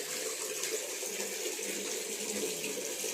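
Tap water runs steadily into a sink while a face is washed, a faint, even hiss and splash with no breaks.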